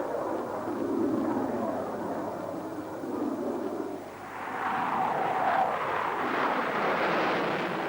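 An F-15 fighter jet roars at a 1980s UK airshow, a broad, continuous jet-engine rumble that swells and shifts in pitch, with a slight dip midway before rising again, with no voices.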